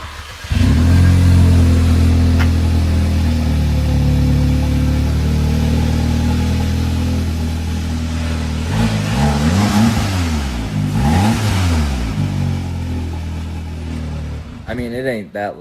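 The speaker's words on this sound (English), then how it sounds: "About to get a cold start up on it." An Audi S3 with a mid-pipe delete exhaust cold-starts after sitting three days: a loud burst as the engine catches, then a steady high idle, later a couple of rising and falling revs, with a voice speaking near the end.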